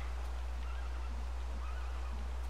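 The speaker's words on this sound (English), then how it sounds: "We did get a horse." A Minecraft horse whinnies over a steady low hum, the neigh sounding thin and game-like at moderate volume throughout.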